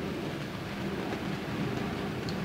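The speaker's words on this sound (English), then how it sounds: "So the rain has really started to come down." Steady rain falls over an outdoor croquet lawn during a world championship semi-final, a dense, even hiss with a low rumble underneath, continuous and fairly loud throughout with no voices.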